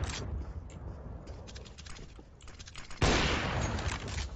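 Rapid gunfire from CS:GO rattles out in quick bursts, with a louder, brighter volley of shots kicking in partway through.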